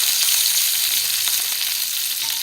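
Sausages frying in a pan of popping grease at a home breakfast stove, a loud, steady sizzle with dense crackling pops throughout and no voices.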